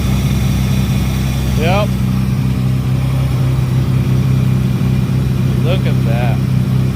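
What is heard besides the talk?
Honda Del Sol J-series engine running with Holley EFI manifold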